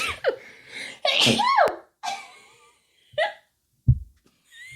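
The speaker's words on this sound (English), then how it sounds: "I'm gonna sneeze." A sharp, close sneeze bursts out after a quick catching breath, followed by a couple of smaller gasps and sniffs.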